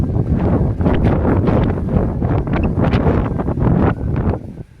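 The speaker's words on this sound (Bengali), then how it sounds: "প্রচণ্ড জোর হাওয়া দিচ্ছে।" Strong sea wind gusts roar continuously against the microphone beside a temple near the shore, loud and buffeting in uneven waves with no other clear sound.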